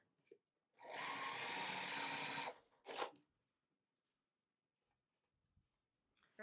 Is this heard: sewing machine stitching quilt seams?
yes